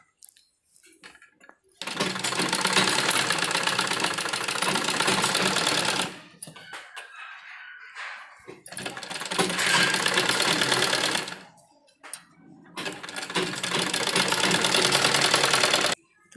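Sewing machine stitching a bell sleeve onto a child's frock, three long steady runs of rapid mechanical whirring with brief gaps and handling noises between them, close and loud, no talk.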